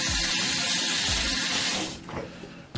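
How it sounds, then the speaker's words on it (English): Warm water runs from a tap into a sink for face washing, a steady close splashing stream with low gurgles that fades and thins out near the end. "So I'm going to be using warm water on my face."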